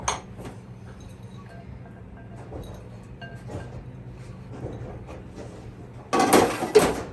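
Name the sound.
mixing potato salad with dressing and celery in a bowl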